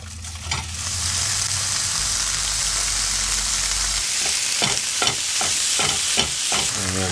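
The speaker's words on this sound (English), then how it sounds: "we'll throw in our beef, or I guess our bison, and get that cooking down with these onions" Bison meat frying with onions and garlic in a hot pan, a loud steady sizzle with sharp scraping clicks of stirring toward the end, close up, no voices.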